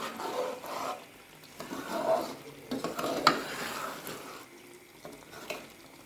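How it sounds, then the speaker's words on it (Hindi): A spoon stirs potato and egg bhujia frying in a pan, making steady close scraping and soft clattering against the metal over a faint sizzle, with one sharper tap partway through. "अब हम इसको इस तरह करके इसके अंदर चम्मच चलाएंगे।"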